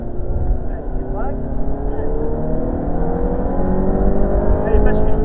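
A learner car on a driving-lesson course accelerates steadily with a loud, continuous engine drone rising slightly in pitch, close and constant throughout, with an instructor's voice talking over it.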